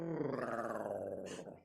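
A voice imitating a jaguar's guttural growl, a single rough, rumbling snarl held for over a second, close and fairly loud, fading out at the end.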